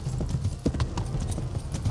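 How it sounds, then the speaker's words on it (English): Horse hooves clip-clop steadily at a fast ridden pace in the medieval game Kingdom Come: Deliverance, the rhythmic beats close and continuous over a low rumble, with no talk. "the horse is getting tired out"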